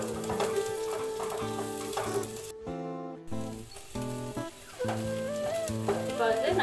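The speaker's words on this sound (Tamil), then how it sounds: "இப்போ வந்து நல்லா ஃப்ரை ஆகிடுச்சு ஆனியன்." Sliced onions cut into long strips fry in a pan for a home-style chicken dish, a steady sizzle running under prominent background music with a brief near-silent break midway.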